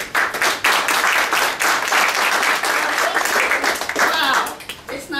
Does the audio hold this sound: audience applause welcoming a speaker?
yes